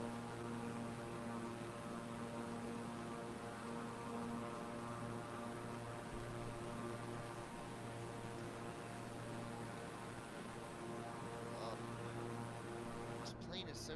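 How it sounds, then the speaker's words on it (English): A propeller airplane engine in Flight Simulator 2020 drones steadily and evenly throughout, a constant hum with a faint hiss and no breaks. "This plane is so easy to fly, dude."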